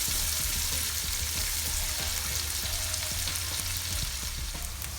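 Onions frying in a pan for a smoked turkey pasta bake give a dense, steady sizzle with soft stirring scrapes throughout, close and continuous, with no talking.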